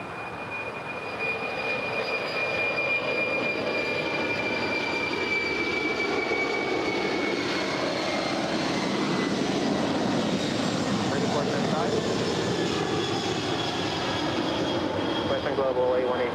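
A jet airliner departing runway 25 left at LAX roars close by in a steady, loud, sustained engine rumble with a rising whine, while people talk over it.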